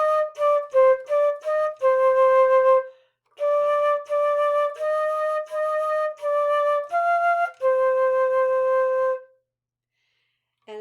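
A solo flute plays a lesson line, starting with quick detached notes and moving into longer sustained tones, clear and close, with a short pause partway through and no talking.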